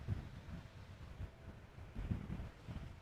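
Steady gusty wind at Amsterdam Schiphol Airport on a crosswind day, a low rumbling buffet against an outdoor microphone that swells and eases without pause.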